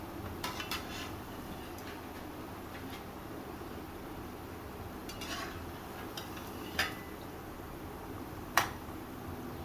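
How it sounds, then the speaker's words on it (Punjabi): Gulgule fritters are turned slowly in a frying pan, with a few sharp, scattered clinks of a utensil over a quiet, steady background. "ਹੁਣ ਇਹਨਾਂ ਨੂੰ ਪਲਟਾਂਗੇ ਹੌਲੀ ਹੌਲੀ ਕਰਕੇ"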